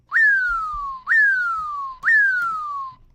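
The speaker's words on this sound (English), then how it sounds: "Or you can do the whistle." Whistle alert sound from the Fidelity Active Trader Pro trading software, three identical synthesized whistles in a row, each a sharp rising chirp sliding slowly downward, clean and evenly spaced about a second apart.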